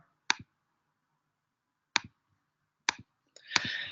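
Four crisp, isolated clicks of a computer mouse, spaced unevenly over a few seconds in a quiet room, the last followed by a short burst of soft rustling.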